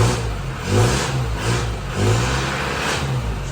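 A 2002 Isuzu Panther LS engine heard from outside the vehicle, running with a steady mid-pitched hum and a few gentle revs swelling and fading at a moderate distance.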